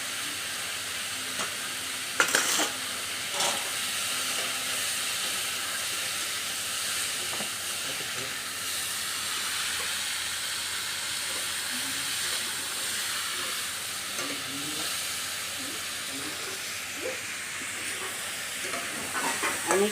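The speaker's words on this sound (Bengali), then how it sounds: "লবণটা দিয়ে ভালো করে আবার আমি ভেজে নিচ্ছি।" Jute leaves (pat shak) frying in a pan with salt and turmeric, a steady soft sizzle with occasional stirring clinks and scrapes, fairly quiet and continuous.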